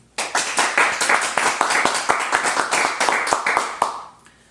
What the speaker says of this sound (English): Let's share a round of applause